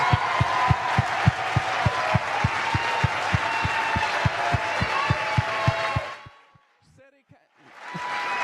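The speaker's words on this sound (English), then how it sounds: "Let's give a big round of applause" An audience at a congressional State of the District event in East Harlem applauds steadily over a regular thumping beat, then the clapping cuts off into near silence before the room noise returns.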